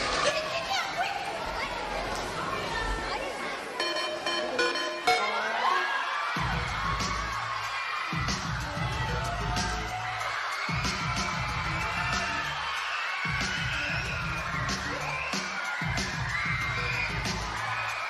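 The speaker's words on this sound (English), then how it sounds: "Then Mario shows up, and the entire crowd just goes freaking ballistic." A large crowd at a church play erupts into wild cheering and shouting, loud and sustained, with children's shouts and bangs mixed in, layered over music and chatter throughout.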